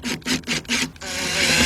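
A Phillips screwdriver backs a screw out of the right front door panel of a 2009-2015 Honda Pilot during door lock actuator replacement, giving four short rasping squeaks followed by a steady grinding rub.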